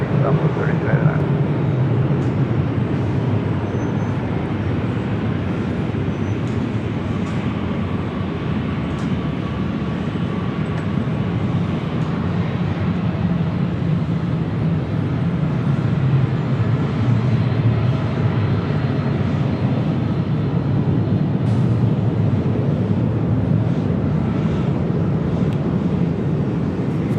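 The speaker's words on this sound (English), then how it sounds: "next departure is Southwest, flight 3299 at 737-800 heading to Las Vegas" A Southwest Boeing 737-800 departing LAX runway 24 left for Las Vegas, a steady, loud, low jet roar that holds evenly throughout with a faint higher whine above it.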